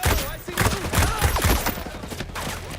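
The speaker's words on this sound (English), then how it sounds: "Who's shooting at me?" Rapid gunfire crackles through a firefight in Ghost Recon Breakpoint on Xbox, with dense overlapping bursts and shots, loud and close. A player's voice is heard speaking partway through.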